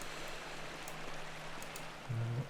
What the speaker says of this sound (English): The waterfall. Beautiful.